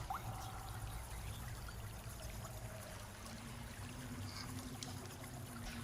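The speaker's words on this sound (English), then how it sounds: "you can also hear the sound of water" Water trickles and pours at the entrance to a cavern, a faint continuous flowing stream with gentle splashing, heard alone without voices.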